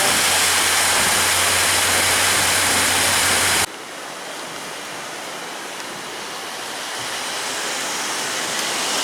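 Heavy Arizona monsoon rain pours down in a loud, continuous roar, with an abrupt shift partway through to a slightly softer but steady downpour that slowly builds again.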